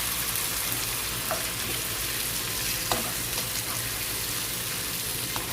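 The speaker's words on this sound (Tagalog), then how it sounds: "Igisa lang natin ng maayos ang kamatis mga mi." Tomatoes sauté with onion in a hot pan for a Filipino ginisang ampalaya, giving a steady close sizzle with occasional stirring clicks and no talking.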